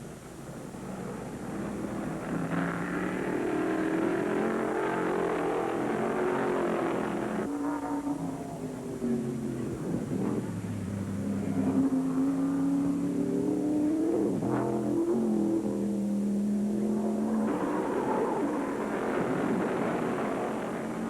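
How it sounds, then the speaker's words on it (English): 1975 NASCAR modified race cars roar through the Daytona road course, engines revving and downshifting as they pass, loud and continuous with rising and falling pitch. "Treichler leads Troyer onto the road course once again"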